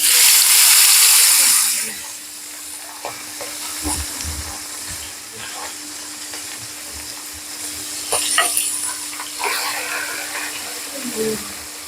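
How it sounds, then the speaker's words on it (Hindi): Fish sizzles after going into hot oil in a frying pan. A loud, steady hiss fills the start, then eases to a softer crackle with clinks and stirring sounds. A voice talks over part of it. "अपनी मछली को मैंने फ्राई पैन के अंदर डाल दिया है, जो कि मैंने ऑयल गर्म किया था उसके अंदर"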